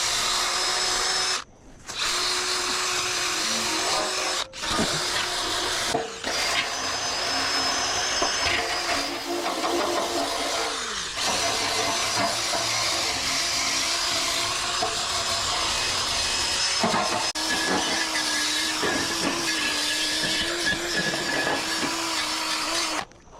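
A power tool fitted with a smaller wheel grinds rust off a steel utility trailer frame, giving a loud, continuous whirring whine that shifts in pitch as it bears down and breaks off in a few brief pauses.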